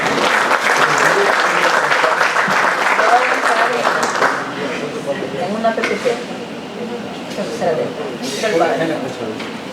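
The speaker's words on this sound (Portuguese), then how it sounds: "Un fuerte aplauso nuevamente" Audience applause at a genetics congress event, a dense roar of clapping that is loud at first and then thins and fades toward the end, with some voices mixed in.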